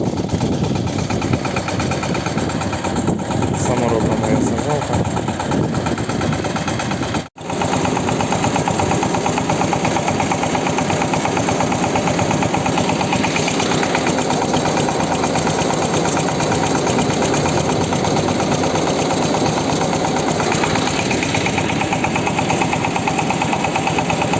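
A motor cultivator engine runs steadily while tilling a garden for potato planting, a loud continuous drone with vibration that holds nearly unbroken for the whole stretch, dropping out only for a brief moment partway through.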